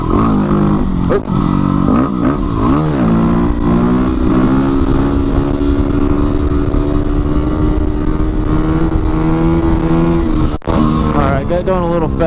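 A Yamaha WR250R supermoto motorcycle holding a third gear wheelie, its engine droning loud and close at steady high revs with a slowly shifting pitch, buffeted by wind, with a voice briefly audible over it.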